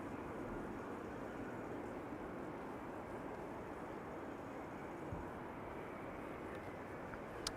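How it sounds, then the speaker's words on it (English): Aircraft wake turbulence at Amsterdam Schiphol Airport gives a steady, fairly faint low roar and rushing whoosh that holds evenly throughout, heard from a distance with no voices. "That was some nice wake turbulence sound."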